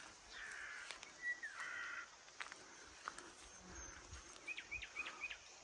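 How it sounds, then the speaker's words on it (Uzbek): Crow caws sound quietly in a mountain village with forest nearby, scattered short calls over faint outdoor ambience, some a little closer and louder around the middle, with a few thin bird chirps near the end. "Qarg'a ham bor ekan."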